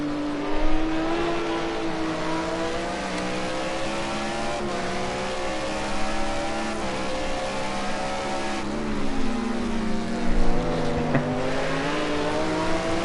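BMW Z4 and Audi R8 GT race cars on the Oulton Park circuit in a racing game, engines revving and shifting up and down through gears in a close chase, loud and continuous with occasional tire squeal.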